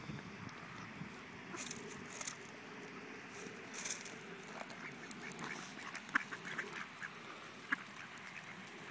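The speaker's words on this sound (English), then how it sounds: "Feed the duckies." Ducks quack in a lively, scattered chorus at close range while being fed Cheerios, with splashing water and soft background noise between the calls.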